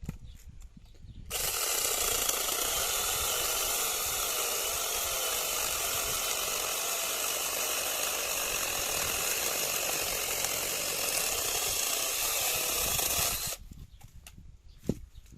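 A 24V cordless mini chainsaw cuts through thick, hard wood, its steady high-pitched whine and rasping chain noise running loud and close for about twelve seconds before stopping, with no talk.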